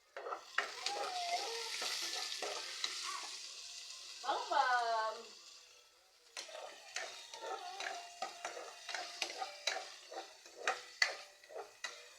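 Chopped onion and garlic hit hot coconut oil in a home kitchen, giving a soft sizzle with repeated stirring clinks and scrapes of a utensil against the pan, fairly quiet and close.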